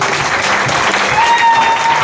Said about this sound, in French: je vous prie une fois de plus d'applaudir pour lui